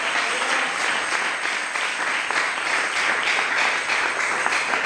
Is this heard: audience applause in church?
yes